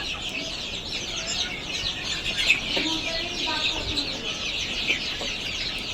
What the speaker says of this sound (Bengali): মুরগিগুলো অনেক সুন্দর হয়েছে আমার।